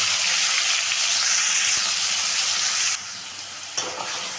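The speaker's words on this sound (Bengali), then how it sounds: "এখানে দিয়ে দেবো পেঁয়াজ কুচি" Chopped onions sizzling and frying in hot oil with whole cumin and whole garam masala, a steady loud sizzle with occasional stirring, easing slightly toward the end.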